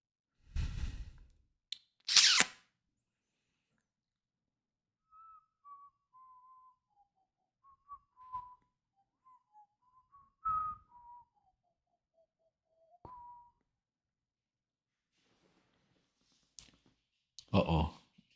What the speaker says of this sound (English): I wasn't whistling for you. I was just whistling.